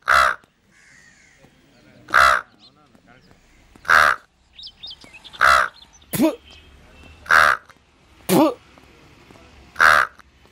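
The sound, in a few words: person imitating a crow cawing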